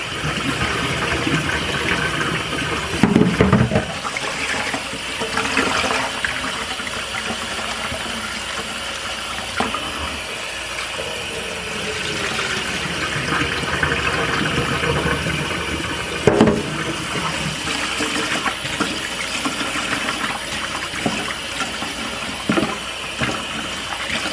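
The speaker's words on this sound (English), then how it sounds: "You want to rinse your rice off and drain it." Rice is rinsed under a running kitchen tap in a regular pot and then drained, a continuous close rush of water with occasional louder splashes and sloshing as the grains are swirled and poured off.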